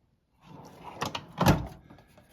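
A drawer in a red toolbox, holding screwdrivers, slides open in a garage: a short scraping rumble that peaks and fades over about two seconds, close and fairly loud, with no talk.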